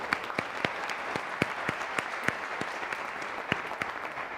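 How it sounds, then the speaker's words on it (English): Panel audience giving a round of applause: a moderate, sustained patter of many hands, with a few sharper individual claps standing out at a fairly even rhythm. "So another round of applause."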